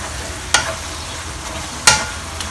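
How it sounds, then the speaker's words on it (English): Cornstarch solution poured into French beans and minced pork sautéing in a wok, with a steady close sizzle and two sharp spatula clacks against the pan. "Now I'm going to add in some cornstarch solution to thicken up the sauce"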